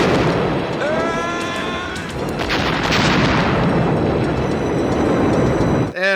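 Grenade explosion in an action movie: a loud, sustained blast and rumble with crackling debris that fills the whole stretch, then cuts off abruptly at the end.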